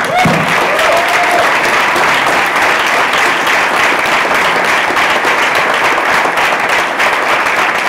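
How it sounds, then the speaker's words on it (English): Steady, dense applause from a large audience at a He-Man and She-Ra voice actors convention panel, loud and continuous throughout with a brief cheer or whoop near the start. "Let's give one more big round of applause."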